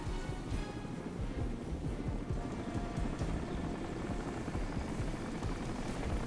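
A helicopter in the video game Crysis gives off a continuous low rotor thrum that holds steady at moderate distance throughout, with no talk over it.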